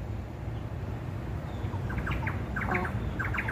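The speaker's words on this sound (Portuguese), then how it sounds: "E passarinho aqui cantando" A small bird sings outdoors in quick bursts of high chirps and trills, faint and somewhat distant, over a steady low rumble of background noise.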